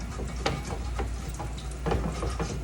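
Beans fry in oil in a skillet with a steady, dense sizzle and crackle, and a few sharper pops and scrapes stand out as they are moved around in the pan.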